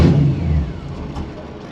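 The engine of a 1955 Chevy Nomad gasser revs briefly, a loud burst that swells at the start and then eases into a lower, rougher running note, close by.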